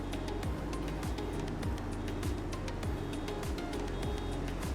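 A farm vehicle in Farming Simulator 25 gives off a regular series of reversing beeps, evenly spaced and fairly quiet, over a low engine drone.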